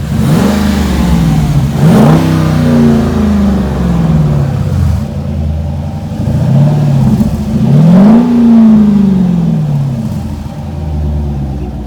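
A Dodge Durango SRT with a cold air intake and a resonator-deleted exhaust revs loudly, the deep engine note climbing and falling in repeated surges over a steady rumbling idle.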